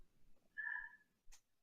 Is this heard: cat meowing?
yes